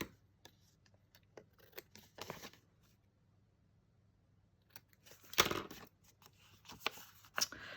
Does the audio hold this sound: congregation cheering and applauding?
no